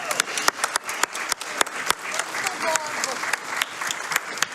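An audience at the SGDQ 2022 speedrunning event breaks into lively applause, dense clapping rising and falling over a few seconds, with talking mixed in over the top.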